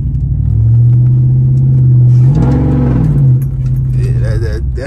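A Jeep SRT with a Hemi engine rumbles loudly close by, its deep idle rising into a brief rev before settling back, with some jangling and muffled talk over the drone.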